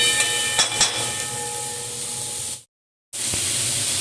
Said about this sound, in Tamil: இப்போ வந்து வெங்காயம் வந்து கொஞ்சம் வதங்கட்டும்